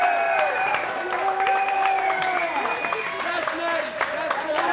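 Wrestling crowd at a Christian Wrestling Federation show cheering and applauding steadily, loud hollering and claps filling the arena, with voices mixed through the noise.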